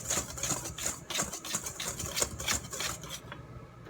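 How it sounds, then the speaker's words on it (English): A whisk scrapes and clinks rhythmically against a bowl, mixing cornmeal with other dry ingredients for cornbread, in quick repeated strokes that stop near the end. "And then I will whisk that together."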